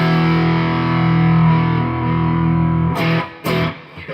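An electric guitar with its pickups wired out of phase plays sustained distorted chords with a thin, hollow tone. Two sharp scratchy strums break in near the end.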